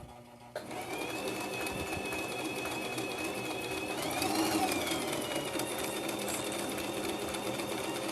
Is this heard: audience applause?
no